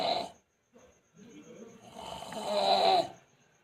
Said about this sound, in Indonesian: Nek ngorok.